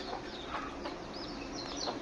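A group of thirty to forty vaccinated three-month-old country chicks clucks and peeps quietly, with high thin chirps rising over a soft steady background.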